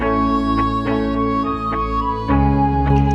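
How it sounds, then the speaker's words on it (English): A rolling bassline sits under a looped electronic beat, with sustained low tones and steady rhythmic hits running continuously at a close, even level, with no talking. "Then from there, I add in my bass, rolling bass to give it the body"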